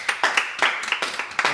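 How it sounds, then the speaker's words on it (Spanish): A church congregation claps hands together as an offering to the Lord, producing quick, sharp, evenly spaced claps that run close and fairly loud for under two seconds. "¿Por qué no le damos una ofrenda de palmas al Señor?"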